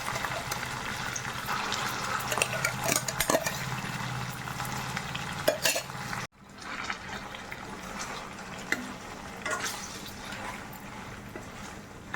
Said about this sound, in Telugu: కొంచెం బాగా ఫ్రై అవ్వాలి వెల్లుల్లి ఒక ఎండిమిరపకాయ